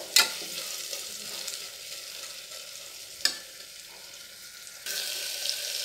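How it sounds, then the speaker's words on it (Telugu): Onions fry in a pan for tomato rice, a continuous soft hiss of sizzling oil punctuated by a couple of sharp utensil clicks, the sizzle growing louder near the end. "ఉల్లిపాయ వచ్చేసి మనకి పచ్చి వాసన పోయేదాకా ఫ్రై అయితే సరిపోతుందండి"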